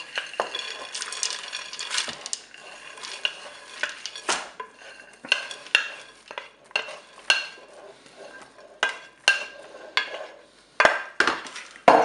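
A spoon stirs peeled tomatoes and flageolet beans in a Cookeo multicooker pot, making repeated scraping and clinking knocks against the metal bowl in an irregular rhythm, close and fairly loud.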